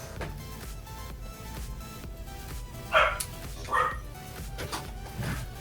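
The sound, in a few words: dog barking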